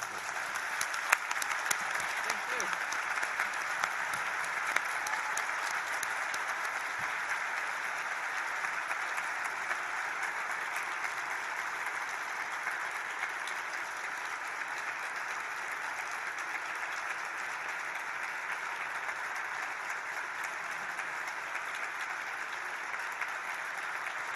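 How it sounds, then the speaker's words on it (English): A conference audience gives a long, even round of applause for a panel, with steady dense clapping sustained at moderate volume throughout and no voices over it. "Please join me in a round of applause."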